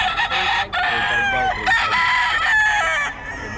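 Several roosters crow in overlapping calls, close and loud, with occasional clucks from chickens between the drawn-out crows.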